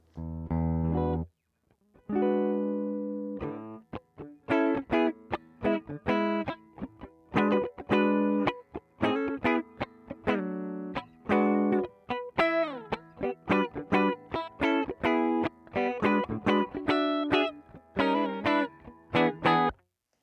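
A Gibson Custom Shop CS-356 electric guitar on the middle toggle setting, both pickups on, plays a crisp rhythm part with chords and choppy muted strums, bright and close, alternating sustained hits with quick staccato stabs.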